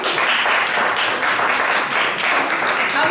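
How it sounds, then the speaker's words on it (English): Loud, dense applause from a comedy club crowd at a stand-up show, a continuous roar of many hands clapping up close without a break. "by applause, I want to know how many providers do we have here tonight?"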